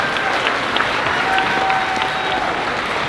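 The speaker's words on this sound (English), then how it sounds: "Let's give them another round of applause." Audience applauds fifth grade students at a school moving-up ceremony, dense steady clapping from a crowd throughout, loud and close.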